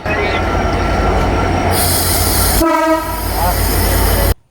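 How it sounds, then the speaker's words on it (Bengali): A train arrives at Joydebpur railway station: a loud rumbling roar with a sustained blaring horn, then a squealing tonal wheel screech as it rolls close by, the sound cutting off abruptly at the end. "ট্রেন চলে আসছে"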